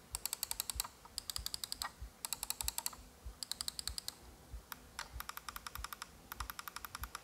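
Switch clicks from a Razer Orochi V2 wireless gaming mouse come in rapid bursts of crisp, close clicking, several clusters separated by short pauses, faint and alone with no talk.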